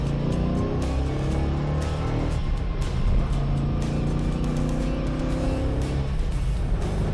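A Ford Mustang built as a Shelby lookalike pulls hard through its gears, a loud, close in-car engine drone rising in pitch with a brief shift dip, then climbing again under steady road roar.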